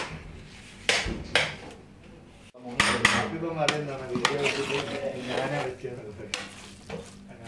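A large pot of Malabar chicken dum biryani being mixed: metal spoon scrapes and clanks against the pot, with soft sizzling and shuffling rice between strokes. The sounds come close and at an irregular pace, and no one speaks.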